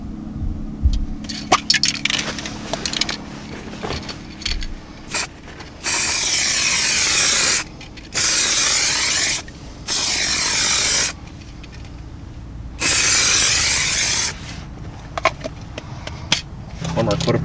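A rattle can sprays primer onto a worn door sill in four loud, hissing bursts of about one to two seconds each, with can shaking, clicks and handling noises between them.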